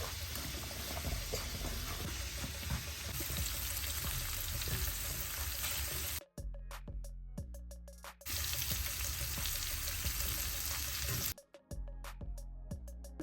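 Cornmeal-coated whole catfish frying in hot grease, a steady loud crackling sizzle that drops out briefly twice before resuming.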